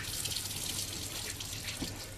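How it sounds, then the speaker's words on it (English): Hot water runs from an RV kitchen sink faucet during winterizing, a steady close hiss of flowing water with a few small splashes and no voices. "We're going to turn on the hot water first"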